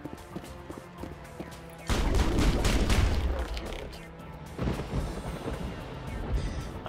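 An enemy gun emplacement fires in Mass Effect, a sudden loud burst of heavy booming and rattling fire, then a second volley shortly after over a low backdrop.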